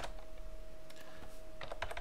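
Computer keyboard typed on during a spreadsheet lesson: quiet clicks that pick up into a quick burst of keystrokes near the end, with no one talking.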